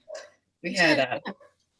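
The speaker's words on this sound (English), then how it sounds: "My dog's totally freaking out right now. Can you hear that?" A dog whimpering and barking indoors while it is agitated, a short whine followed by a longer strained vocal burst and a few quick yips, with speech-like quality and no clear words.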